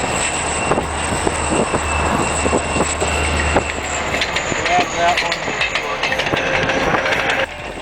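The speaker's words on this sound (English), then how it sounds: "These old Southern Pacific-style tunnel motors are built for heavy duty." Southern Pacific-style tunnel motor diesel locomotives roll past on a railway, giving a continuous loud engine drone and rumbling rail noise with rhythmic clacks throughout.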